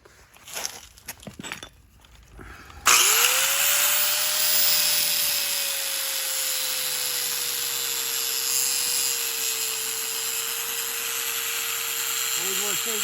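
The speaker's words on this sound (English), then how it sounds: "So we're going to grind that off." An angle grinder runs steadily on a go-kart's metal reverse shifter handle, grinding off its locking notch; the loud, continuous whine starts abruptly after a few seconds of handling noises and holds for about ten seconds, slightly shifting pitch.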